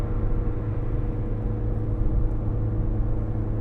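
Ford Transit MS-RT van at full throttle on the Nürburgring, a steady, loud, dense engine drone with low rumbling harmonics held throughout, no voices.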